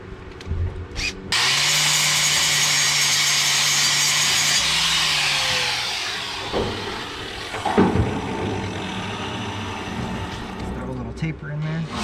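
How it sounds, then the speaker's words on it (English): An angle grinder with a flapper disc cleans up steel during a flatbed build for a third-generation Dodge 2500, giving a loud, steady whirring grind for about four seconds before winding down, followed by scattered metallic clanks and shop clatter. "First I need to hit that with a flapper disc and clean it up."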